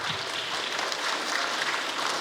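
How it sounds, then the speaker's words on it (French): An audience at a women's World Cup press conference in Sarrians claps, a steady, even patter of applause heard at moderate distance throughout. "Eh bien écoutez, on peut les applaudir"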